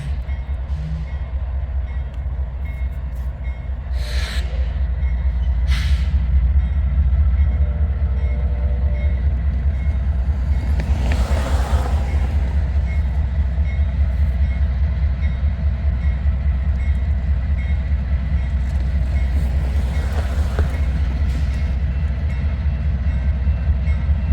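An eastbound freight manifest train with NS locomotives on the UP Blair Fremont Sub rolls by, a steady low rumble with rhythmic wheel clatter, and occasional louder bursts rise above it throughout.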